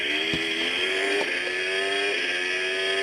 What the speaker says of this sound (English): It sounds like an F1 car and going really fast,